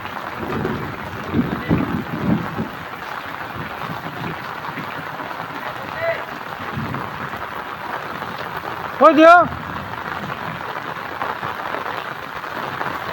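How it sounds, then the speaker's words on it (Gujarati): Steady rain hissing throughout, with a brief louder burst of noise near the end. "તો આ વરસાદ આવી ગયો"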